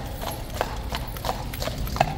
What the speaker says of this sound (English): That is a happy horse, guys.